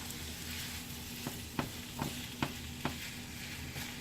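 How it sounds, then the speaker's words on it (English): Ground meat for a taco pizza sizzles and fries in a pan, a soft steady crackle broken by several sharp scrapes and taps of a utensil stirring it, fairly quiet and with no talking. "now our meat is starting to get where we can move it around a bit"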